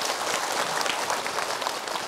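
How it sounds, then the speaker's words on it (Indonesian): A television studio audience at an Islamic religious talk show claps steadily and densely throughout, a full sustained applause with no pauses and no speech over it. "Tepuk tangan dulu."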